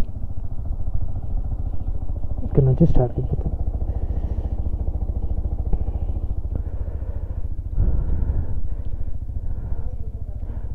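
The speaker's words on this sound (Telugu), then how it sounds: "కొంచెం బైక్ వార్మప్ అయితే" A motorcycle engine idles steadily while warming up outdoors near cottages by Pangong Lake, a close, continuous low chug with a brief clatter partway through, under a man's speech.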